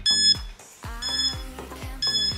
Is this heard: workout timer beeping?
yes